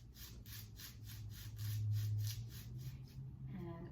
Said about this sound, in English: Something else that makes a scratchy sound are my sand blocks.